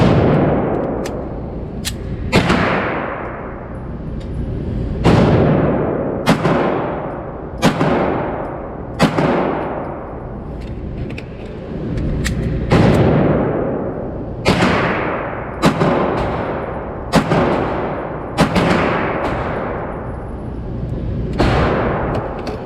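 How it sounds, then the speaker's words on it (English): Sig Sauer P320 full-size pistol firing, about fifteen loud single shots spaced a second or more apart, each a sharp blast with a booming outdoor decay, with no talk. "First shots right now. The P320. About to see what this thing is made of."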